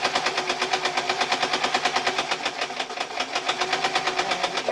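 A basic modern sewing machine stitches t-shirt fabric with a fast, steady mechanical chatter, close and continuous, its needle rhythm holding an even pace throughout with a slight dip partway.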